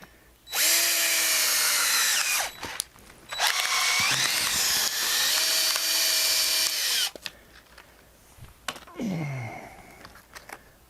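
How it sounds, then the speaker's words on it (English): A drill-driven cone splitter bores into a log to split it, the motor whining loudly in long bursts that bog down and strain, separated by short pauses, clicks and the crack of wood. "Well, the cone splitter did split it, but if you noticed, I was struggling to hold the drill to go through this"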